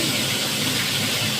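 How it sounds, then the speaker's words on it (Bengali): Fresh foli fish fries in hot oil, producing a loud, even, broadband hiss that holds constant through the brief moment without breaks or speech. "ছেড়ে দিয়ে সুন্দর আমি ভাজাটা করছি।"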